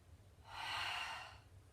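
A single sharp breath drawn in through the nose during a light-weights mat exercise, quiet and close, swelling and fading over about a second against a faint room hush.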